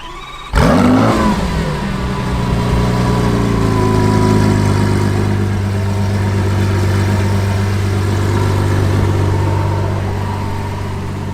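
A Lamborghini Sián FKP 37 hybrid starts with a sudden loud bark, then settles into a deep, steady idle that holds loud and close, easing slightly near the end, with no talk.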